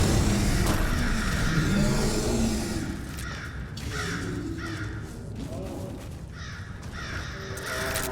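Many crows caw repeatedly in a cave in modded Skyrim, a dense flock of harsh overlapping calls in a steady stream, fairly loud, with no talking over them.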